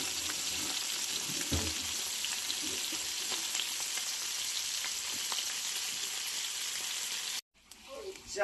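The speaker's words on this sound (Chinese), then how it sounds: "现在煎一盘小鱼先" Small fish fry in a pan in a home kitchen with a steady, moderately quiet sizzle and occasional light scrapes. It cuts off abruptly near the end, followed by a brief louder rustle.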